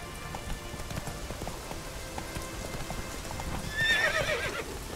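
Horse hooves clip-clopping at a gallop in The Witcher 3 game, rapid close rhythmic thuds over rainy ambience, ending in a loud whinny near the close.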